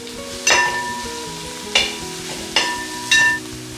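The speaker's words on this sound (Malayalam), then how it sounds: "ഇത്രയും നമുക്ക് ഓരോന്നായിട്ട് എണ്ണയിലേക്കിട്ട് വഴറ്റിയെടുക്കാം" Shallots and curry leaves go one by one into hot oil for a Kerala-style beef curry, giving a steady sizzle with four sharp splashing bursts as each addition lands, close and alone with no talk.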